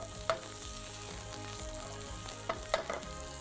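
Vegetables browning in a hot pan, a soft continuous sizzle with a few brief crackles and stirring taps, quiet and close, no voices.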